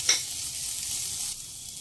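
Grated ginger and chopped green chilli fry in a pan over a low-medium gas flame, giving a close, steady sizzle with a brief stirring scrape at the start.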